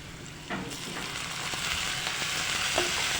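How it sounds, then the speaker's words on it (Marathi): Onions browning to a reddish colour in a pan of oil for a fenugreek and pea gravy give off a steady, close sizzle, with faint stirring scrapes and small crackles and no voice. "आपला इथं कांदा भाजत आलेला आहे चांगला लाल कलर झाला"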